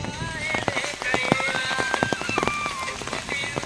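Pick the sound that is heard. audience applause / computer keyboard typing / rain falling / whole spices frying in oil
rain falling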